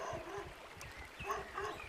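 A dog gives a few short, quick barks and yips, close by and moderately loud, with small whimpering sounds between them across a couple of seconds.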